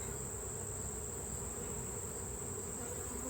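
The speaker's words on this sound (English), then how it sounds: "Watch out, bee." Honey bees buzz in a steady, continuous drone close around an open hive during a honey harvest, with no voices.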